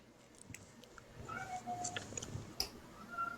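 A cat meows softly in the background, a few faint short calls scattered among quiet rustling and movement.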